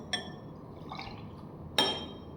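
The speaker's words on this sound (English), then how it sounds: "first you're gonna mix in a glass, mix the milk and water" Milk and water poured into a glass and mixed, heard as two short clinks of glass with a faint splash of liquid between them, quiet and close.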